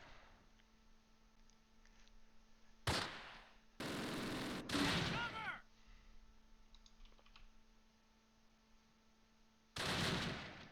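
Soldiers fire in the WWII tactics game Close Combat Last Stand Arnhem, with short loud bursts of gunfire broken by quiet gaps and faint clicking in between.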